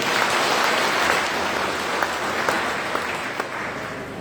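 A church congregation at a parish service applauds together, a dense continuous wash of clapping with a few sharper individual claps standing out near the end.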